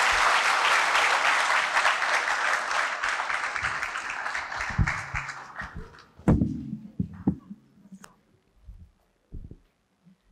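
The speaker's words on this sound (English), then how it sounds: "And so can we just offer Nick a big round of applause" A crowd claps loudly and warmly at a school prizegiving, the applause tapering off after a few seconds into scattered thumps and shuffling.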